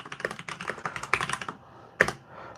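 Bursts of fast typing on a computer keyboard in a home studio, crisp clicks in quick clusters with a brief pause and a final sharp key strike, no talking.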